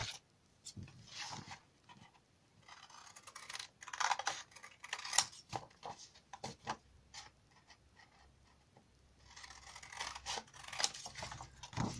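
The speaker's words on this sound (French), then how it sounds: "Je vais venir couper cette partie-là et cette partie-là." Scissors snip through paper while a Mickey pop-up cube box is cut out, giving faint, close, irregular clicks and crisp cuts in scattered bursts with quiet gaps, and no talking.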